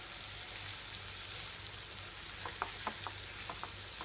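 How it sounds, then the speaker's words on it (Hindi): Chicken keema with potato and tomato sizzles steadily in a pan over a medium flame, a dense hiss with a few soft stirring clicks near the end. "अभी तक मैंने इसे मीडियम फ्लेम पर"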